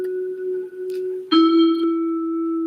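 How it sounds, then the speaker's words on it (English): Sustained mallet tones ring out, one note held, then a brighter struck note enters and rings on, clean and close with no voices. "We have a xylophone."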